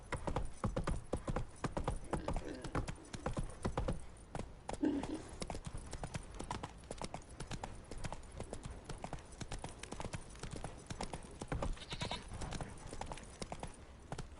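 Roach the horse galloping in Witcher 3, a rapid continuous run of hoofbeats with a brief whinny amid steady game ambience and no voices.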